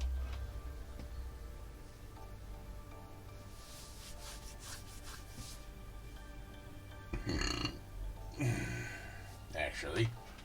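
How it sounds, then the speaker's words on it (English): A man lets out a few short, throaty burps in a home workshop where guns are being worked on, over steady rubbing noise and a low hum, with voices nearby. "Burp."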